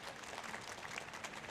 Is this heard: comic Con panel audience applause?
yes